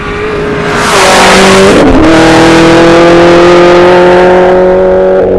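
A 1200 hp Hennessey Camaro ZL1 1LE accelerates hard nearby, its engine roaring loud and climbing in pitch, dipping briefly at a gear change, then pulling steadily upward again, with no voices.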